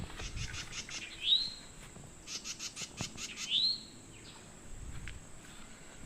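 A towhee gives sharp, sweeping mating calls, with other birds chirping and twittering around it in a rapid, steady chatter, all fairly close and clear outdoors.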